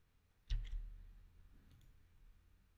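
A computer mouse double-click during SolidWorks CAD modeling, two quick close clicks, small and near, in an otherwise quiet room.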